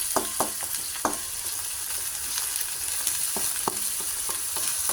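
Pechay greens sauté with soy sauce in a pan, giving a steady soft sizzle under scattered clinks and scrapes of a utensil stirring, close and moderately quiet with no talking.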